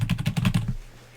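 Rapid burst of keystrokes on a loud computer keyboard, about eight close, sharp clacks in quick rhythm that stop abruptly, leaving quiet room tone.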